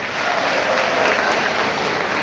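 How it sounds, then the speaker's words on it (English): Students at a B.Tech passing ceremony at a maritime academy cheer and applaud in a dense, steady wash of clapping and crowd noise that continues without a break. "Thank you, students, for that energetic cheer and applaud."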